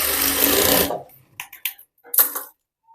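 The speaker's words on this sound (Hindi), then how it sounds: "तो बेल्ट में मैं डबल सिलाई लगा रही हूँ" A sewing machine runs in a steady, loud burst for just under a second while double-stitching the belt of a half-collar blouse, then stops, followed by a few soft clicks and handling taps.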